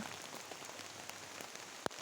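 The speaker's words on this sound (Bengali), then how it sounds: "খুব বৃষ্টি সকাল থেকে, অনেক বৃষ্টি।" Rain falls steadily in a soft, continuous hiss, with a single sharper drop tapping near the end.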